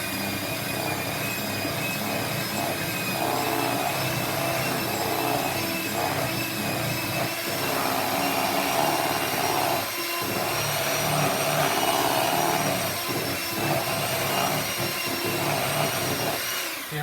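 An electric mixer whirs steadily in a bowl of cheesecake batter as beaten eggs are mixed in, a continuous loud motor drone with slight wavering and no talk over it.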